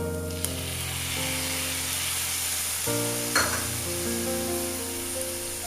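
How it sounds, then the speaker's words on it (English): Tomatoes sizzle with onions in a frying pan for a bottle gourd gravy: a steady, close hiss of frying that runs throughout, with a faint hum beneath and one brief clatter midway. "The onion is getting sprouted. Now we'll add the tomatoes."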